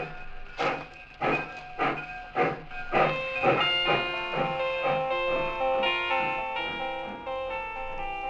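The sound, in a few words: train pulling away from station, steam hissing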